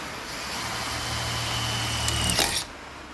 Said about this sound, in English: I get a small drill bit, it's brand new. I drill a small pole hole